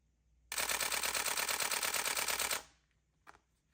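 A Canon 1D Mark III DSLR shutter fires a rapid burst of clicks at 10 frames a second for about two seconds, close and loud, then stops, followed by a single faint click.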